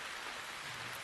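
Steady rain falls with a continuous soft hiss that stays even throughout, with no voices and no breaks in the patter.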